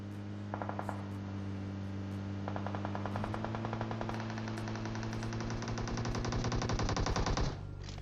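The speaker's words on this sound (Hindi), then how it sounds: "और आगे गोलियां चल रही है बहुत ही दबा के" Bursts of rapid automatic gunfire in a video game rattle over a steady electronic hum, growing into a long sustained volley before cutting off.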